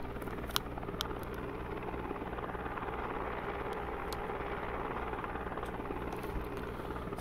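Steady helicopter rotor and engine drone from a flight simulator game, run with a force feedback control base on a helicopter profile; continuous and even throughout, with a few faint clicks and no talk.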